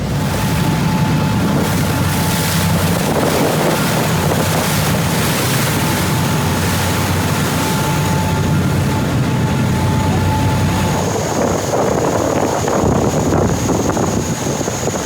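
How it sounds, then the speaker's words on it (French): A ferry's boat engine runs loud and steady on a crossing to the Île d'Oléron, mixed with rushing water, surf and heavy wind buffeting the microphone throughout. "Vas-y Roger, mets les gaz"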